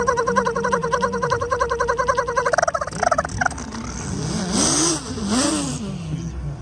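A voice imitating a Pontiac Trans Am engine at a car show: a rapid, rhythmic sputtering idle that breaks into rising and falling revving whoops, close and loud.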